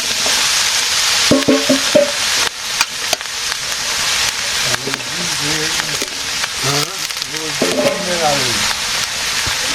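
Vegetables hitting a hot frying pan in a village kitchen, a loud close sizzle that holds steady with stirring scrapes and clatter, while a voice talks over it in places.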